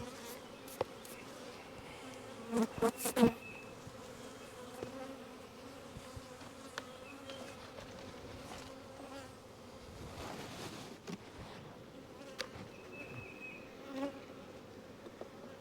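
Honeybees buzz steadily around an open hive while honey frames are pulled, a dense faint drone close by, broken by a few brief clunks and knocks of frames being handled.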